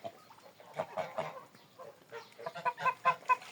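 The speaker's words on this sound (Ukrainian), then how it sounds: "У нас собі гусі гуляють." Geese and chickens on a farm cluck and honk in a run of short, moderately close calls that grow busier and louder toward the end, with no talk over them.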